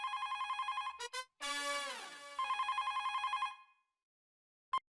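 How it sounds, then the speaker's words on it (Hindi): A household telephone rings in steady electronic trills, cut by a brief burst of other sound, then ringing again before stopping, with one short final chirp; close and clear. "बेटा जरा फोन उठाना।"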